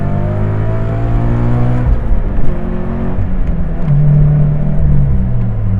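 A car on lowering springs accelerating hard through a corner, a loud close engine drone rising in pitch, dipping at a gear change, then climbing again as the revs build, with no talking.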